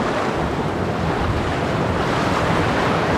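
Ocean waves wash against the shore at Esperance with a dense, continuous roar of surf, loud and unbroken, mixed with wind buffeting the microphone.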